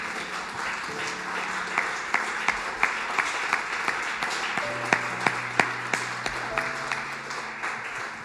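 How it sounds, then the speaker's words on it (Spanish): A church congregation breaks into applause, a steady wash of clapping with regular louder rhythmic claps punctuating it, while sustained keyboard or organ tones sound faintly underneath. "Le damos un fuerte aplauso al Señor."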